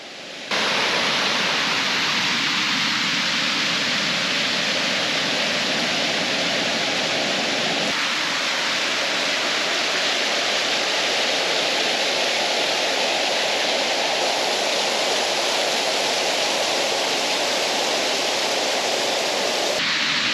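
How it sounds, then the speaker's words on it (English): Steady, full-bodied roar of Sycamore Falls waterfall on the Fiery Gizzard Trail, a continuous broadband rush of falling water that stays constant and close for the whole stretch with no voices. "Waterfall number 5."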